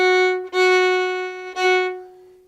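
Fiddle bowing three sustained notes in a lopsided long-short rhythm of a dotted quarter and an eighth, bright and close, with the final note ringing out and fading, no talking.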